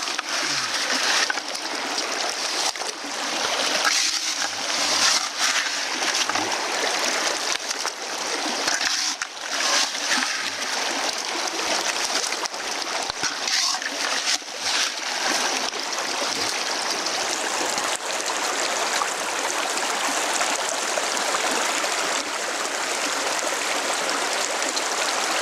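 Water pours steadily into a half-full 5-gallon bucket, making a continuous, close splashing rush with slight fluctuations. It runs uninterrupted for the full length.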